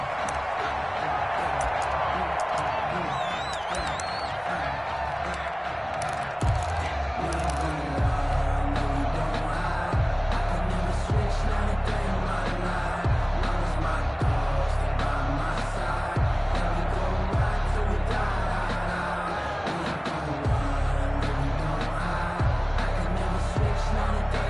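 A stadium crowd roars steadily in a PS4 football video game as the Tennessee Titans meet the Jacksonville Jaguars, a dense, unbroken wall of noise with voices over it.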